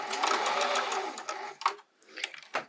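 A sewing machine stitches fabric for reusable produce bags, a close, quick whirring run for about a second and a half followed by a few short bursts.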